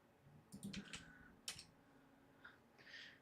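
Faint computer keyboard typing in short irregular bursts of clicks, close but quiet, with no talking.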